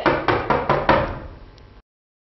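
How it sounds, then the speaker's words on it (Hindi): Five sharp knocks on a door at an even pace, close and loud, the last one fading out slowly. "शांति शांति, दरवाजा खोलो। अरे दरवाजा खोलो मेरी माँ।"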